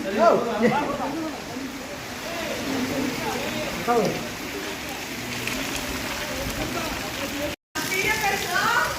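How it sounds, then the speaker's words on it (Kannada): Heavy rain falls steadily in a dense, continuous hiss, while people talk close by over the downpour. "ಸಕ್ಕತ್ತಾಗಿ ಮಳೆ ಬರ್ತಿದೆ"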